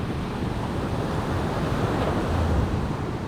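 Waves wash continuously onto a quiet hidden beach, a dense, even roar of surf mixed with wind noise on the microphone, with no breaks and no voices.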